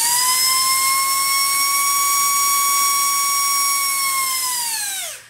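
Electric motor of an ASK-21 RC glider running near full throttle, a steady loud high-pitched whine with strong harmonics that holds for about five seconds, then drops in pitch and cuts out abruptly.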